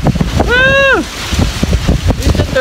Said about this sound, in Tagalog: It's a tornado, man.